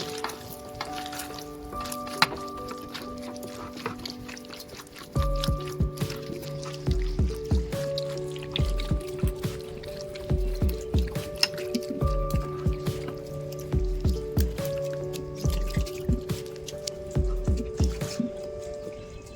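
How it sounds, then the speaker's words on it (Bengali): Bael fruit pulp being kneaded and squeezed by hand with water added bit by bit, giving wet squelching and dripping sounds in a steady rhythm, close and clear with no talking. "জল অল্প অল্প করে জল দিতে হবে, আর এটাকে ভালো করে মেখে নিতে হবে।"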